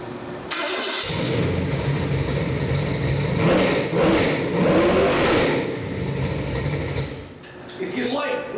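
A Ford Mustang crate engine cranks to life and revs repeatedly, rising and falling in loud surges, with a voice talking over it.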